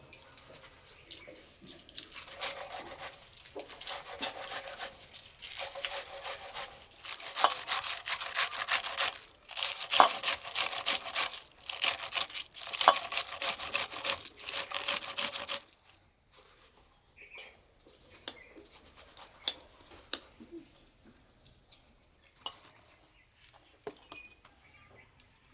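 Cabbage being grated by hand, a dense run of scraping rasps from about 2 to 16 seconds, then quieter handling and scattered clicks near the close; no talking.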